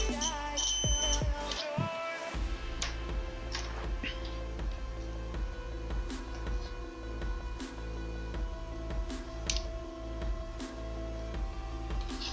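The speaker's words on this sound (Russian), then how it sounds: "Звуковой сигнал означает, что концы замкнуты." A multimeter's continuity tester beeps with a steady, sustained electronic tone while the probes are shorted during a Sega Mega Drive 2 console modification, with faint handling clicks throughout.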